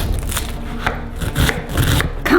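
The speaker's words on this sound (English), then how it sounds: "So, chopping the onion." A knife chops an onion on a wooden cutting board in a rapid run of close, crisp strokes with uneven spacing.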